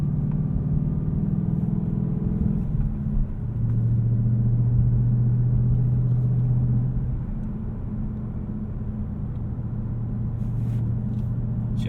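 Engine of a 2018 Ford Mustang GT Premium Performance Pack heard from inside the cabin: a steady, loud low drone with pitch shifts as the engine is blipped for rev-matched downshifts, with no talking.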